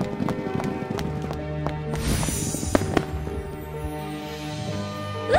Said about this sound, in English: Prince Liam organized a horse racing competition